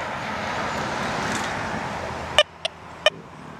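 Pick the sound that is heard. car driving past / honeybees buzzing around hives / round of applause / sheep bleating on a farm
car driving past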